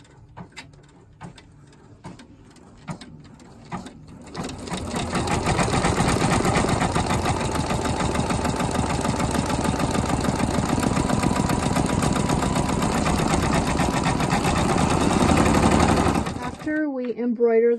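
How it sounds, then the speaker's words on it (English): An embroidery machine stitching volleyball panels on sticky stabilizer starts up after a few soft knocks, then runs loud and steady with a fast rhythmic needle chatter for about twelve seconds before stopping abruptly. "So now we're going to embroider the volleyball panels now that we have them on our sticky stabilizer."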